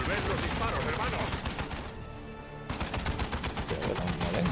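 Rapid bursts of automatic and rifle fire crackle in a Warhammer 40k: Dawn of War II battle, with a brief lull before the volleys resume, dense and loud.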